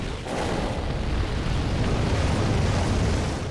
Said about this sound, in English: I'll probably do the explosion thing again.